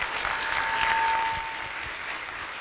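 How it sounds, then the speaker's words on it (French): An audience applauding at a leadership talk event, a steady, full wash of clapping from a crowd with a thin high tone briefly audible underneath. "je vous demande de les applaudir"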